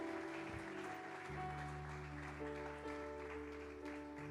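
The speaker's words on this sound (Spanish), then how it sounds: "Denle un aplauso al Señor." A church congregation claps together during a worship service, a soft, steady patter of applause over sustained musical tones.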